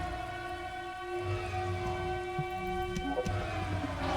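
Steady wailing alarm sirens from a large-scale dimensional breach in the video game The First Descendant hold long sustained tones at a constant loudness with a low rumble beneath, and no talk.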